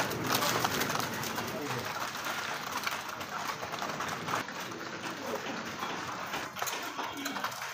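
Homing pigeons at a sale collection coo steadily in a busy chorus under someone talking throughout.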